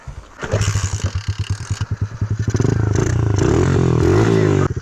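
A KAYO TSD 110 enduro motorcycle pulls away in sand: a low idle rises into a loud, close revving engine that holds steady for several seconds, with some clatter, and no talk.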